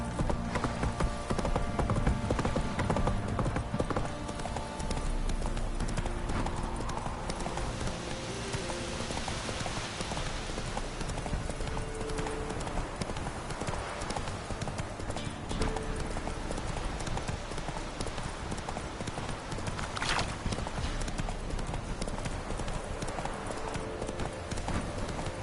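Roach the horse's hooves clip-clopping in The Witcher 3, a steady rhythmic trot of hoof falls continuing throughout, mixed with a soft rain-like patter in the background.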